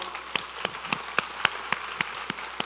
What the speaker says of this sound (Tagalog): palakpakan natin ng malakas ang ating Panginoon